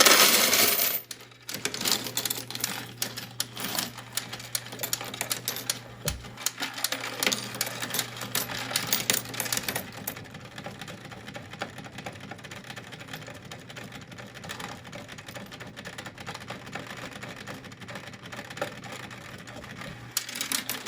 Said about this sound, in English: So we're going to click run and dump in our change.